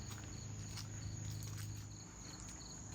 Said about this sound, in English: And you hear the crickets?